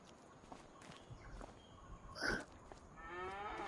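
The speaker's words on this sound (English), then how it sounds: "And here's my cows." Cows mooing in a farm video game on PS5, with soft footsteps and movement sounds, one distinct moo standing out midway and a longer low call near the end, quiet overall.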